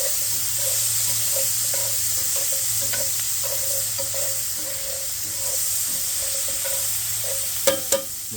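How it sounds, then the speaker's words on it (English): Steady, close sizzle of a pan of pressed-duck ingredients with thyme being stirred, an even frying hiss throughout with soft scrapes and a couple of sharp clinks near the end, no talk. "And give this a good stir."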